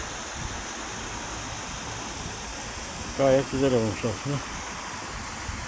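Steady broadband rush of a waterfall in a park in Serdivan, Sakarya, constant and fairly loud throughout, with a person speaking briefly over it.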